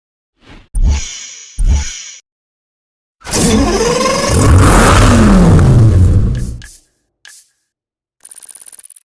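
Lamborghini Gallardo Superleggera from the racing game Need for Speed Hot Pursuit Remastered: two short sharp engine blips, then a longer loud rev that climbs and falls, followed by brief faint electronic tones.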